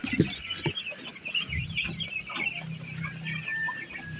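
Two-month-old chicks peeping and clucking at close range, a run of short chirps and soft calls scattered through the clip with some rustling.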